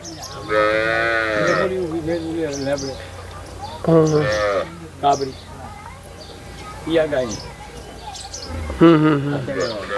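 Cows moo loudly several times, long harmonic bellows spaced across the clip, with people talking in the background between calls.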